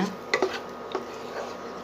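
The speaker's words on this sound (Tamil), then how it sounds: "இப்போ நல்லா கிளறிக்கலாங்க." A spoon stirs mochai payasam, ground field-bean paste just added to raisins in a pot, with a few quick scraping strokes close by over a low background hum.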